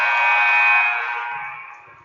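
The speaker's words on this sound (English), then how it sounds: "And Rabbie will put it in at the buzzer." A basketball end-of-half buzzer sounds at a high school game between Morgan and Greenup County, one loud sustained electronic tone that holds for about a second and then fades, with faint crowd noise beneath.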